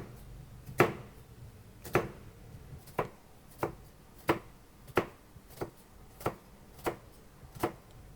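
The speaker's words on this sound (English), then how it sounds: "We'll start by slicing from the top to the bottom on each onion half." Knife slicing a small onion half top to bottom on a cutting board for mincing, about a dozen crisp, evenly spaced chops close to the microphone with no talk.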